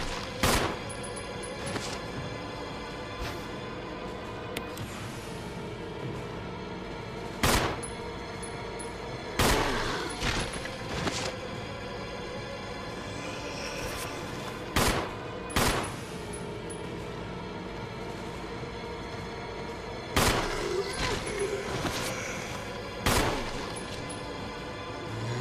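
Gunshots in the video game Resident Evil ring out as sharp, isolated cracks at irregular intervals over a steady droning background, some spaced several seconds apart and a few in quick pairs.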